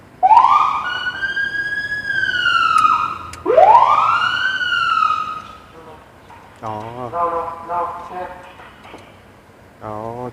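An ambulance siren wails in two long rising-and-falling sweeps, loud and close, then switches to a rapid warbling yelp for the last few seconds.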